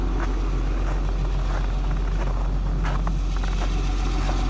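A truck engine running rough idles with a loud, continuous low rumble and a slightly uneven, lumpy rhythm, heard up close.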